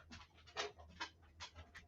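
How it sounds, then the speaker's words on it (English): Dogs panting close by in quick, rhythmic breaths, several soft bursts of air in a row over a low background hum. "Dogs."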